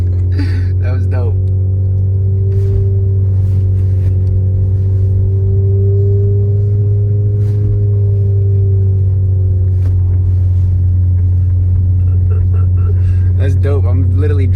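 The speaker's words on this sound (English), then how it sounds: "I'm literally driving sideways." A car drifts sideways across snow at night, its engine a steady loud drone that swells and sags with throttle, heard from inside the cabin with occasional voices chatting.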